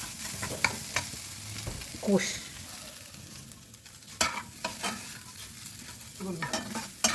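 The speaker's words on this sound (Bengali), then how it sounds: "সব দেওয়ার পরে এবার মাছটা কষে নেব।" Bhetki fish with turmeric, chili powder, salt and a spice mix being worked with a spatula, irregular scraping strokes and occasional sharp clinks up close over a soft sizzling hiss, with no voices.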